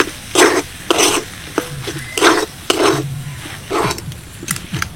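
A mashed lote fish chop mixture of boiled potato, green and dried chilies and spices is being mixed by hand or spoon, making repeated squelching and scraping strokes in a steady rhythm, close and fairly loud.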